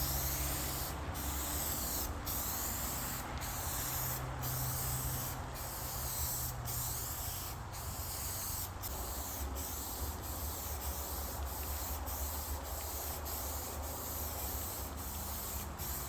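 Dominion Sure Seal 3-in-1 gray primer being sprayed from a can onto a Ram, a long steady hiss broken by short regular pauses and bursts, close and continuous.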